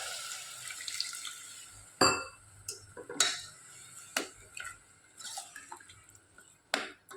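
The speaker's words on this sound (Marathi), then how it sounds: "आता पाणी घालते मी" Water splashes and trickles into a pan of masoori chicken, a near, fairly quiet pour broken by several sharp clinks and knocks of the vessel, with no talking.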